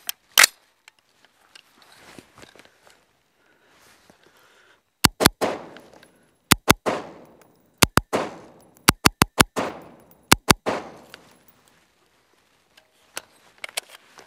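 Sharp gunshots from an old Bushmaster AR-15 A1 carbine fitted with an old flash hider, fired outdoors as single shots, then quick pairs and clusters of loud cracks separated by short pauses.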